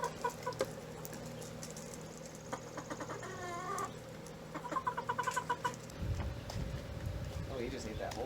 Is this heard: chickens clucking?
yes